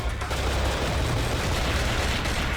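Gunfire in the survival horror game Cold Fear forms a dense, continuous roar of rapid shots that blend into a loud, sustained barrage with no pauses and no talking.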